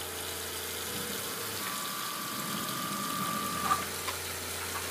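Water runs steadily from a faucet fed by a Suburban IW60 tankless RV water heater, a continuous soft hiss with a faint tonal whine and a couple of small clicks near the end, heard alone without talk.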